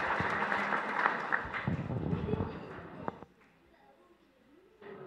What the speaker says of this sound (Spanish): Le damos un fuerte aplauso a nuestros hermanos sacerdotes y a nuestro obispo